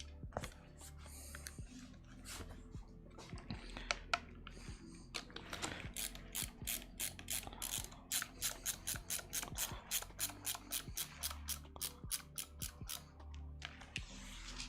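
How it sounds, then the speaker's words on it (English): Screws driven into a 3D printed Nerf blaster, heard as a long run of rapid, regular ratcheting clicks from a close tool, with pauses and handling noise between bursts. "And now I got to put a bunch of screws in this."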